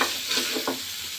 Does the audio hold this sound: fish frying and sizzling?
yes